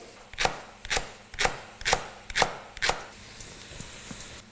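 A knife chops the white part of a leek on a board for pumpkin soup, five crisp, evenly spaced cuts followed by a quieter stretch of faint rustling.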